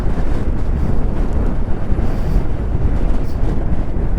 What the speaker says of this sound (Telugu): అలాంటి గట్టి గాలి వస్తుంది అనమాట